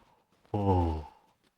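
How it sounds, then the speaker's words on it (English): A single voiced yawn, a short breathy exhale that swells and fades over about half a second, close and alone. "A good way to do this is to imagine you're yawning, like this."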